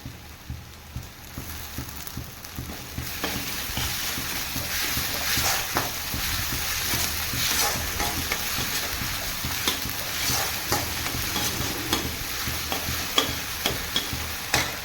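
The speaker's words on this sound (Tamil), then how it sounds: "இப்படி வெங்காயம் வதங்கிருச்சு பச்சை மிளகா போட்டுக்கலாம் அதோடையே நம்ம இஞ்சி பூ பூண்டு பேஸ்ட்டையும் போட்டுக்கலாம்" Onion, green chilli and ginger garlic paste fry in a pan for banana flower egg fry, making a continuous crackling sizzle, broken by soft stirring taps that grow busier toward the end.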